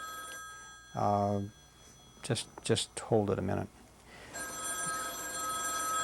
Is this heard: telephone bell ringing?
yes